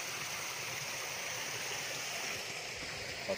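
Steady rushing and splashing water of a small waterfall on a grayling river, a constant soft roar of a small cascade heard fairly close, with no voices.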